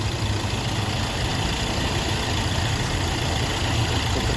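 A Hyundai Elite i20 car engine idles steadily at close range during an oil change, a constant low rumble with no pauses or revving and no voices.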